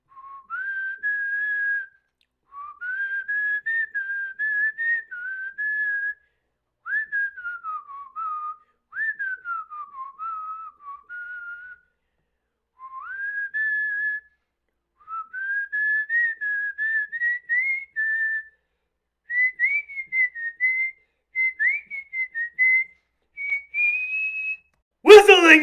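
A person whistles a wandering melody alone, in short phrases separated by brief breaths, clear and close, ending with a sudden noise.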